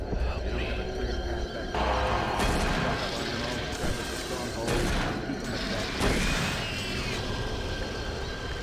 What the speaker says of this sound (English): So sometimes a shotgun shot at point blank kills them instantly.